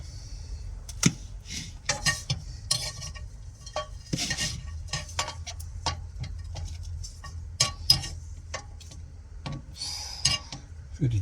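Cutlery and dishes clink and scrape while food is plated up in a camper van kitchen, a run of sharp close taps and clatters scattered over a low steady hum.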